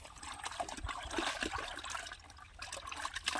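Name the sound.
cow dung being mixed into water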